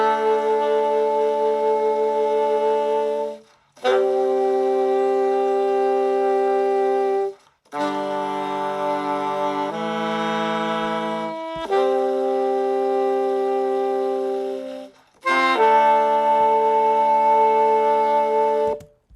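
Saxophones hold long, sustained harmonized chords, each swelling and lingering several seconds before brief gaps, the harmony shifting between blocks.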